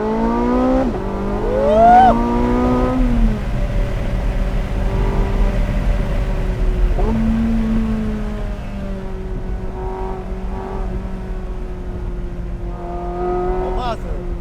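Porsche 918 Spyder in hot lap mode, accelerating hard with its engine note rising through rapid upshifts, then settling into a steady, loud cruise drone with brief revs near the end, heard from inside the car with some talk over it.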